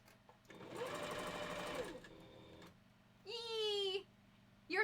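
A sewing machine stitches furs together for a wolf partial head, running in two close, steady whirring bursts with a pause between and a brief restart at the end.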